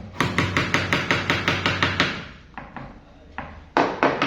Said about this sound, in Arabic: يعني من الاربع اركان بنحاول نحط كده مسامير صغيره